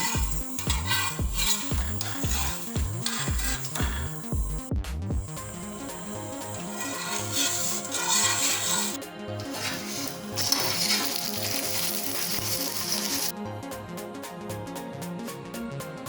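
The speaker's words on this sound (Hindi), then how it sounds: "फिर इसके बाद इसको तेल लगा के फ्राई करेंगे पराठे" Continuous sizzling and crackling of paratha frying in oil on a hot griddle, with rhythmic scraping and stirring clatter early on, close and steady.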